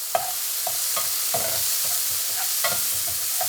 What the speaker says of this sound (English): So I like to crank the heat, put the mushrooms in, then follow with the shallots or onions or garlic.